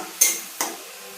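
A spoon stirs a mixed four-seed spice paste in a cooking pan, giving two short scraping strokes about half a second apart, close and clear, with no talking.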